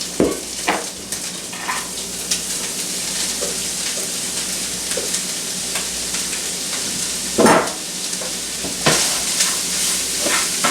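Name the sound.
coleslaw mixture frying in a pan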